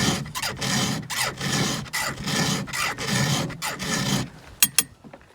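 A file sharpening chainsaw chain teeth, about nine rhythmic rasping strokes close up, each a steady gritty scrape, then a few sharp metallic clicks at the end.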